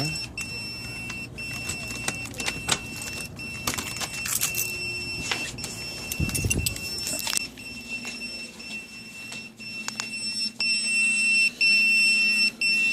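An electronic device beeps in a steady, high-pitched tone that persists across the recording, mixed with clunks and handling noises nearby.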